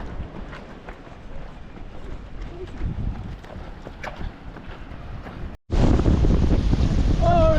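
Steady, rumbling wind buffets the microphone for several seconds during a marathon run, cuts out briefly, then returns louder and harsher, roaring close against the mic.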